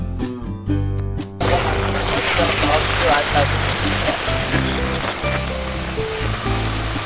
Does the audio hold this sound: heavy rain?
yes